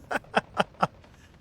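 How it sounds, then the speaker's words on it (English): Mortars fire in the WWII strategy game Steel Division, four evenly spaced dull booms in quick succession, fairly close and sharp, with a faint tail of fainter blasts afterward. "Got mortars going left and right here."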